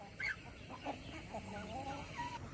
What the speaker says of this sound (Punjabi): ਦਾਣਾ ਪੈ ਗਿਆ ਸਾਰਿਆਂ ਨੂੰ, ਬਤਖਾਂ ਨੂੰ, ਕੁੱਕੜਾਂ ਨੂੰ।